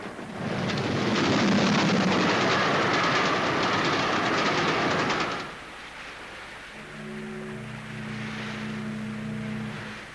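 A train runs along its rails at a steady, fairly close, loud roar with rattling wheel noise for about five seconds, then the sound drops away and a low, steady hum carries on beneath.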